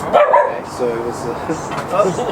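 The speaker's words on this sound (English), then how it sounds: "Pardon the dog." A dog barks and yips a few times during a podcast with local guitarists, the short sharp barks sounding close and mixed with people talking.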